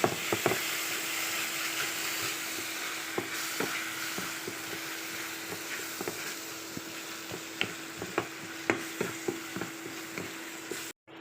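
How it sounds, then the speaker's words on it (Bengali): Raw jackfruit kebab mixture with kebab masala, cumin, coriander and chili powder is stirred by hand or spoon, a steady rhythm of soft squishy strokes and small clicks, close and moderately loud. "ভালো করে নেড়ে মিশিয়ে নেব"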